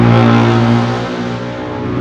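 Steady road traffic with car and motorbike engines humming by a roadside outside a two-wheeler repair workshop, a loud continuous drone that eases slightly after the first second, with no talking.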